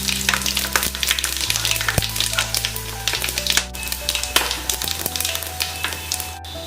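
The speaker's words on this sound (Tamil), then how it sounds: "இப்போ நம்மளுக்கு எல்லா கரம் மசாலாவும் நல்லா பொரிஞ்சிடுச்சு" Whole garam masala spices (bay leaf, fennel, cinnamon, cardamom, cloves, star anise, marathi moggu) fry in hot oil for fish biryani, with a dense, loud, continuous crackling sizzle over a low steady hum.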